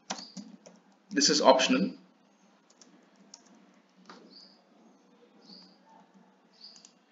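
Typing on a computer keyboard while entering a request description in hotel admin software, a dense burst of key clicks lasting about a second, with sparse lighter taps and someone talking around it.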